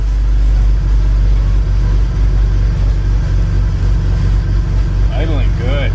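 A BMW E46 engine idles steadily and loudly in a garage during an assembly build, a constant low rumble throughout with some brief higher squeaks near the end.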